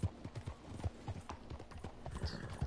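Horse hooves clip-clopping in the video game Red Dead Online, a steady trotting rhythm of close, distinct hoof falls with a brief whinny, under faint talk.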